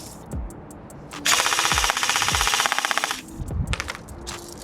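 A G&G M14 EBR airsoft rifle fires on full auto, a rapid mechanical rattling burst of about two seconds, with a few single clacks before and a short string after, close up.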